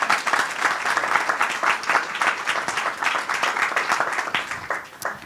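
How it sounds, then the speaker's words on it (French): A festival audience gives a hearty round of applause for a guest, many hands clapping in a close, lively patter that holds steady for several seconds before thinning out at the end. "vous pouvez l'applaudir."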